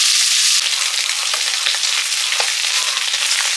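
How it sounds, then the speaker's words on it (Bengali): Salted bitter gourd with turmeric fries in hot oil, a loud continuous crackling sizzle heard up close with no talking. "উচ্ছেগুলো একটু ভেজে নিতে হবে।"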